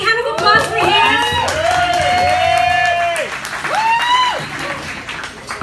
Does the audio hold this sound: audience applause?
yes